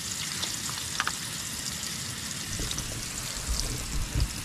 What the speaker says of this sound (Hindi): तो सबसे पहले डालते हैं प्याज को, प्याज जो है प्याज डाल दिया मैं सबसे पहले